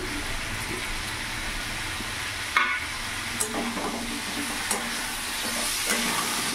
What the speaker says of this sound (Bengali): ভালো করে নাড়াচাড়া করে মিশিয়ে নেব।